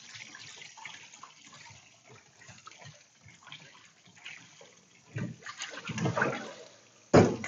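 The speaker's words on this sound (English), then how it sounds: "when you're making yakisoba, in general, you want to wash the noodles after you boil" Boiled yakisoba noodles being rinsed under running tap water to wash off starch, a steady faint stream of water that grows into louder splashing near the end, with a sharp clatter at the close.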